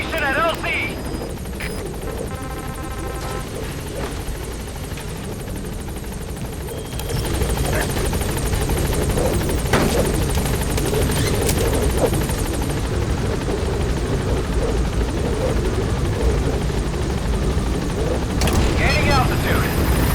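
Support helicopter B-Quad in Metal Gear Solid V thuds and whines nearby, its rotor noise swelling louder partway through and holding steady, while voices and game sounds come and go.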